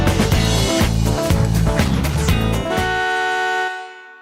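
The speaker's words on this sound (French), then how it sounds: "il y a aussi un klaxon dans le Tesla" Tesla car horn honking loudly and steadily for about three seconds, a bright sustained blare with rhythmic pulsing, then cutting off with a brief fading tail.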